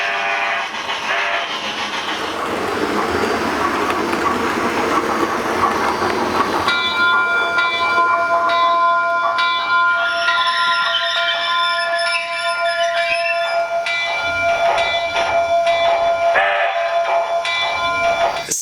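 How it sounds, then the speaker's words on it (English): Rapido HO-scale Royal Hudson model steam locomotive pulling out of a station on a home layout, a continuous close mechanical rumble and rail clatter, with a bright bell-like tone ringing over the running sound. "Alright, let's pull this train out of town."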